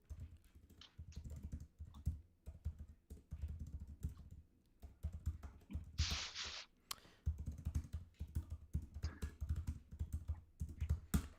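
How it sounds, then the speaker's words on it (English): Enthusiastic typing on a computer keyboard, with rapid clusters of key clicks and brief pauses between them, close and fairly soft, continuing throughout with no voices. "Lots of enthusiastic typing."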